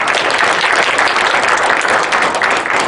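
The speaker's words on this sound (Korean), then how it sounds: "저는 박수 부탁드립니다." Audience at a humanities lecture held at a courthouse applauds, a loud, sustained roar of many hands clapping continuously from start to finish without a break.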